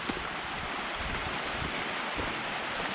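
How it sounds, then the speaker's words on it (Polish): Stream flowing through a mountain meadow in a Tatra valley near Strążyska, a steady close rushing water sound with some wind, continuous throughout with no talk. "Po łaku płynie strumyk."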